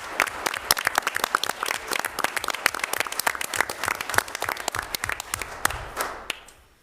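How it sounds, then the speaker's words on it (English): A school committee meeting audience applauds a student, dense steady clapping from many hands lasting several seconds before tapering off, fairly close and without speech. "Can we clap for Clara?"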